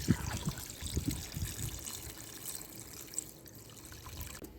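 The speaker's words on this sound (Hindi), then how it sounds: "1 लीटर पानी डालेंगे।" Water is poured into a cooking pot for chana dal, a fairly faint, continuous splashing trickle that is strongest at first and then eases off.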